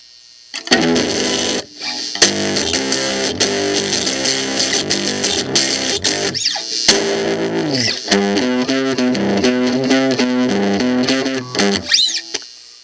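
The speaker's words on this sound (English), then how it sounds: "that's the TC Electronics booster / LineDriver, and it's quite the distortion box" Electric guitar driven through a TC Electronic Booster LineDriver pedal in distortion mode with all controls maxed, playing loud saturated chords and riffs with brief pauses between phrases.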